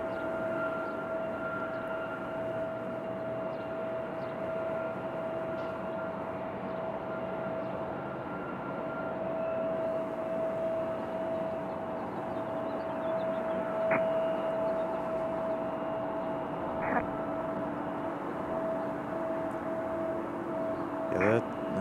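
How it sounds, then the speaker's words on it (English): A Republic Airways Embraer E175LR arriving at Raleigh-Durham International Airport from Pittsburgh sends a steady, fairly distant jet roar with a sustained whine that holds throughout, growing slightly fuller toward the end. "our next arrival is going to be Republic 4630 coming in from Pittsburgh"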